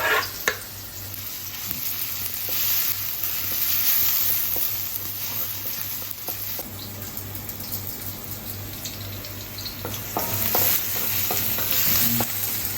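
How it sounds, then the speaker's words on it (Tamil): Ginger, garlic and onion sauté in hot oil with a continuous sizzle, broken by occasional scraping stirs and clinks of the spatula against the pan, moderately loud and close, with no talking. "இஞ்சி பூண்டு வெங்காயத்தை போட்டு வந்து வதக்க போகிறோம்"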